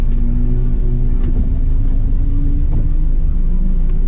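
A Porsche rolling past on a Scottish North Coast 500 road, a steady, loud low engine rumble that holds throughout without any other voices or sounds.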